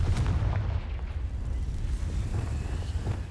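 A Confringo blasting spell goes off in Hogwarts Legacy, a heavy low rumbling explosion that rolls on and sustains loud throughout.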